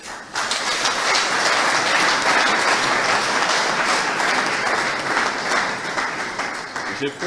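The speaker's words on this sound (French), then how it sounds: "je vous demande tous d'acclamer" An audience claps and cheers for Mr. Thierry at a public ceremony, a loud, sustained burst of applause that gradually fades toward the end.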